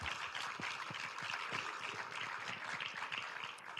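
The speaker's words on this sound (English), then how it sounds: "can I have a round of applause for Stephanie" Faint applause from a seated audience at an election integrity summit, a steady patter of many hands clapping heard at a distance and sustained for several seconds.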